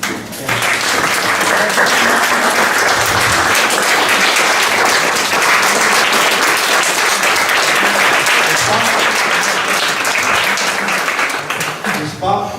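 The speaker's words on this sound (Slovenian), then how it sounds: "pozdravimo njegovo nečakinjo Vido Bajžel in prosim, da jo za ploskanje pozdravimo v zadnji vrsti" An audience at an evening event in the Domžale straw-hat museum applauds to greet a guest in the back row, a dense, sustained round of clapping lasting about twelve seconds at steady loudness.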